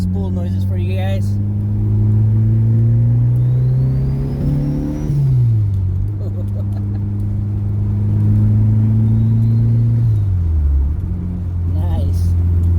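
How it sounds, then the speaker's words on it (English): A K-swapped rear-wheel-drive Starion's engine revs and whirs with rising and falling pitch, a turbo spool building twice over a steady rumble, with a faint blow-off valve hiss between pulls. "That sound, that spool, the blow-off valve, never gets old."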